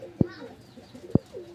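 White Danish pigeons kept for sale give two short, low coos about a second apart, close by, with soft background noise between them.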